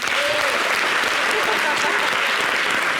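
Loud audience applause fills a TV studio set, a dense steady wash of clapping throughout with no break.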